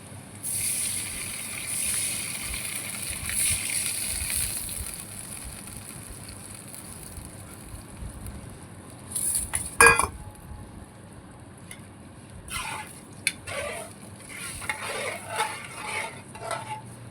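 Sugar water is poured into khaman and stirred in a pan, a soft wet swishing that gives way to scattered scraping and clinks of the utensil, with one sharp clatter midway.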